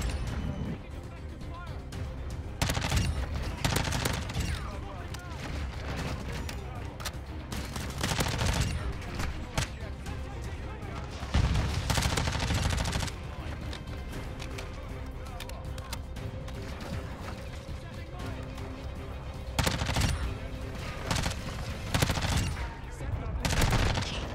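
Dense, sustained gunfire in a first-person shooter video game while switching between random guns, with rapid automatic bursts and heavier volleys that barely let up, under intermittent player voices.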